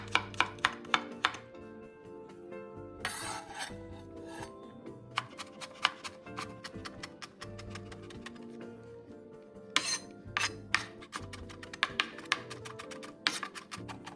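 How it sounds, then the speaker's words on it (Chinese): A kitchen knife chops carrot on a cutting board in quick, sharp bursts of taps, then pauses and resumes, fairly quiet and close with no talking. "切成丝后再稍微剁碎"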